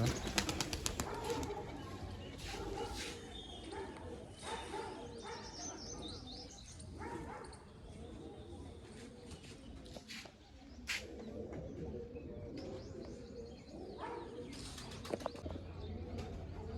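Pigeons kept by a fancier coo in low murmurs while wings flap in short bursts and a few chirps break in, with the birds close at first and then fainter, with occasional sharp clatters.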